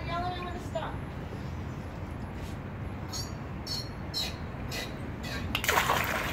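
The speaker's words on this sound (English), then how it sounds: "I want to put more water." Water splashes and sloshes as it is poured into a WW2 and Vietnam-era field kitchen immersion heater, a steady churning pour that grows louder near the end, with voices talking over it.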